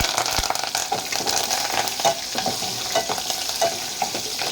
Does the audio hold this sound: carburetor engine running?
no